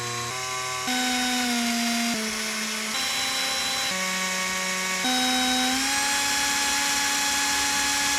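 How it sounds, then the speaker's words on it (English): An electric drill bores holes in a metal license plate holder for a Corvette C7, a close, loud, steady motor whine that shifts pitch in steps as it bites and eases, with no talk. "let's drill some holes"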